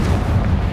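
A Confringo blasting spell explodes in Hogwarts Legacy during a mountain troll boss fight, a dense, loud low rumbling blast that fills the brief moment without letup.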